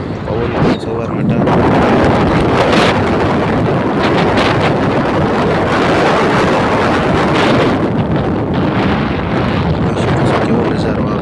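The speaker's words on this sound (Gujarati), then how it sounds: "પવન પણ સવારમાં" Strong morning wind on a hill highway roars steadily and loudly across the microphone with constant buffeting gusts.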